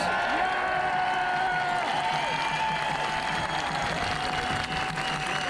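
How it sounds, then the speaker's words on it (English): A large outdoor crowd at a community rally in Newtown Mount Kennedy, Ireland, breaks into sustained applause, steady dense clapping with a few whistles and cheers running throughout. "a big round of applause"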